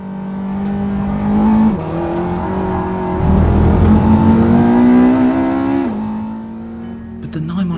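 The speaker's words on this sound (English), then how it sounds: "driving a new 911 Turbo S, by the way, and driving it quite hard" A new Porsche 911 Turbo S driven hard on a circuit, its engine note climbing steadily, dipping at gear changes, then rising again in loud, close sweeps with a brief roar of passing noise midway.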